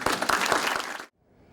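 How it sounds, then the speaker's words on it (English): Audience applause at an award event for nonprofit volunteers, a brisk burst of many hands clapping for about a second before cutting off abruptly into near silence. "I'd like you all to give yourselves a round of applause tonight for all that you do for our organization"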